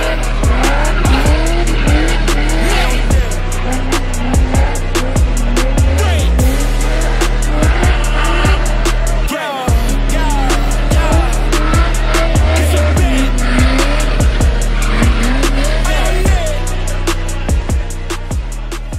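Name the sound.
rear-wheel-drive race cars drifting with tire squeal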